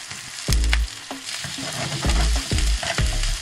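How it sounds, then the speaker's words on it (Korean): Vegetables, garlic and chili stir-fry for jjamppong over a weak home stove, loud sizzling broken by repeated scraping stirs and clanks of the spatula against the pan, close up with no talking. "그 다음 야채 넣어서 볶아줍니다."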